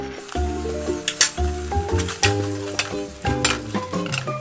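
Sardine sauce sizzles in a frying pan, a steady crackling fry broken by repeated clinks and scrapes of stirring over the whole stretch, with no talk.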